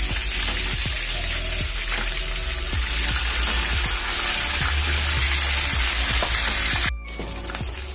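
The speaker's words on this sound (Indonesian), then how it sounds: "Nah, sekarang aku mulai menggoreng ikannya." Two fish fry in hot oil in a pan, a dense, continuous loud sizzle and crackle with scattered pops that briefly cuts out and resumes near the end.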